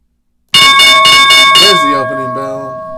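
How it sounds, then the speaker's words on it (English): The stock market opening bell rings loud and close in a rapid string of bright metallic strikes, then cuts out and leaves a ringing tone that fades away. "There's the opening bell."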